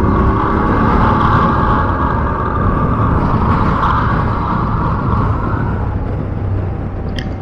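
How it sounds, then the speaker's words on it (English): A BMW F750GS motorcycle engine revs steadily and loudly up close while overtaking a car on a road in Jersey, with constant road and wind rumble throughout. "Just going to overtake this car quickly."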